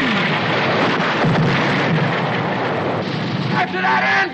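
A World War II artillery support barrage strikes German defenses with loud, continuous blasts and roaring explosions, and voices mix in beneath the din.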